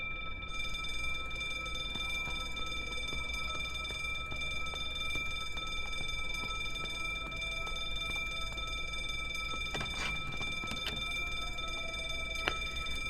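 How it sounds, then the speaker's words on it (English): An alarm going off in the video game The Drifter, a steady ringing electronic tone with several sustained pitches held throughout over a low background hum, with a few brief clicks and thumps near the end. "That's just going to set the alarm off."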